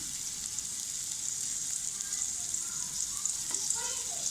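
Chopped onions fry in hot oil for a Bengali dal mash dish, a steady close sizzle with faint stirring scrapes and no talking.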